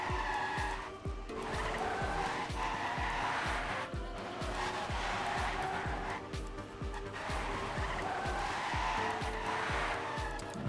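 Cars drifting in a Rocket League-style video game match, with continuous squealing tire skids and revving engine sounds looping densely and loudly across the whole stretch, joined by a faint crowd bed.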